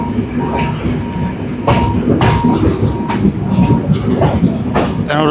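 A passenger train travelling from Jaffna toward Batticaloa rumbles along steadily, heard from the last carriage, with rhythmic wheel clatter and a few sharper rail clanks and a brief squeal.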